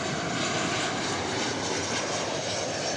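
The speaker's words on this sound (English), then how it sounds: "We have a flight arriving from El Paso right here on 18 right." An American Airlines jet airliner arriving from El Paso on runway 18 right at Dallas Fort Worth gives a steady, loud engine roar that holds evenly throughout, with no talk.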